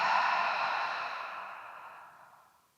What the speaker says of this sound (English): And take another deep inhale. And a soft exhale.